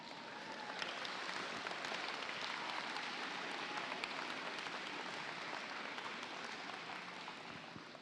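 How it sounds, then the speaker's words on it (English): Sustained applause from a large crowd at a FIRST Tech Challenge robotics state championship awards ceremony, a dense, even wash of clapping heard from a distance in a big hall, steady for the whole stretch. "Give yourself a round of applause for that."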